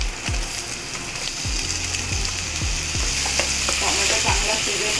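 Tomatoes and onion sizzling with ginger garlic paste for black-eyed peas usal, with a spoon scraping the pan in several distinct strokes over a steady close frying hiss.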